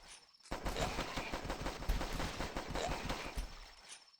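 Gunfire from shooting zombies in The Last Stand, a sustained rapid barrage of shots starting abruptly after a brief quiet moment, steady and dense until fading near the end.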